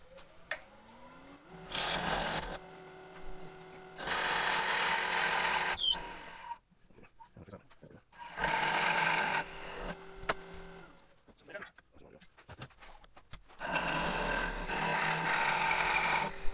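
A 2.5-inch Forstner bit held still while wood spins against it on a lathe, cutting in four separate rasping bursts of a few seconds each, with quieter pauses and small knocks between them.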